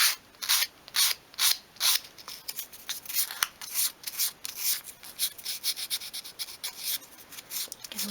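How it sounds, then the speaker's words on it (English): Curved sandpaper rubbing the edge of a small wooden part for a 1/12th scale miniature chest of drawers. It makes a steady run of close, rhythmic rasping strokes with no voices. "Curve the paper round as well to create a sort of rounded sanding shape."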